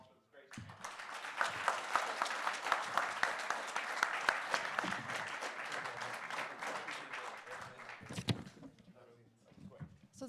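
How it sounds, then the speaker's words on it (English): Sustained audience applause closing a panel discussion at an anniversary celebration, many hands clapping loudly and evenly for several seconds before it tapers off amid some shuffling and murmured voices. "Please join me in a round of applause for this great"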